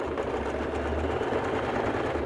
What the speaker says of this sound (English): And now I go and sew.